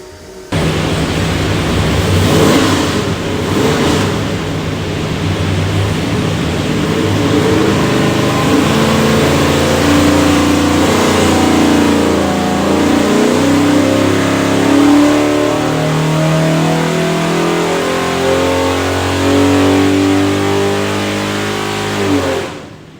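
A 489ci Big Block Chevrolet V8 with a carburetor and hydraulic roller cam runs hard on a dyno, a loud continuous roar that climbs steadily in pitch as it revs through the pull, with no voices over it.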